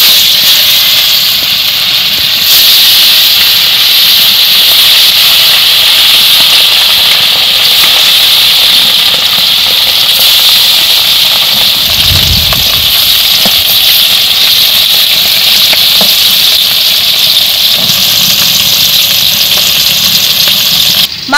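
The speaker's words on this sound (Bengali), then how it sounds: "তেল গরম হয়ে গেছে। এখন আমি লবণ হলুদ মাখানো মাছগুলো দিয়ে দেব।" Silver carp pieces coated in turmeric and salt fry in hot oil, giving a loud, continuous sizzling hiss that stays steady from start to finish without talk.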